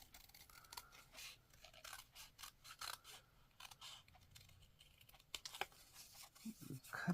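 Scissors snip and trim paper sleeves for a Christmas card craft, a string of quick, close cuts with faint rustling of the paper between them.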